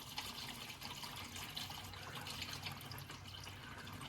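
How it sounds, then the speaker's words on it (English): Hot engine oil pouring steadily from a Scion FR-S drift car into a drain pan during an oil change, a continuous splashing liquid stream, close and moderate in level without pause. "Now, oil dumping out."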